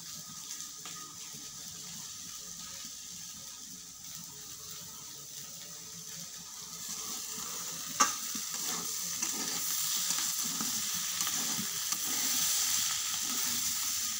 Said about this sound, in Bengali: বলক এসে গেছে, গরম মশলা দিয়ে দিলাম